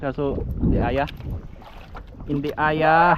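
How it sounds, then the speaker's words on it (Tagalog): Strong wind buffets the microphone at sea on a fishing boat, a broad rumbling gust rising and falling throughout, with people talking over it. "medyo malakas ang hangin"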